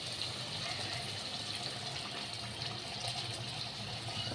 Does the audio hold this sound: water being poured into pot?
yes